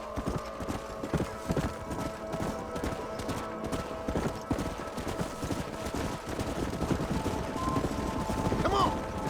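Horses' hooves clip-clop in a rapid galloping rhythm in Red Dead, close and steady, with a herd of wild horses and cattle moving, a whinny near the end and distant gunfire, while people talk.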